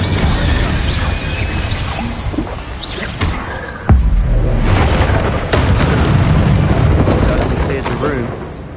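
Repeated fire-spell blasts from the Incendio charm in Hogwarts Legacy on PS5, loud booming bursts around four and five seconds amid a dense, busy battle soundscape, with voices speaking at points.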